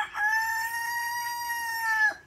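A young rooster chick hatched in a classroom lets out one sustained crow lasting about two seconds, close and clear with no other sound around it.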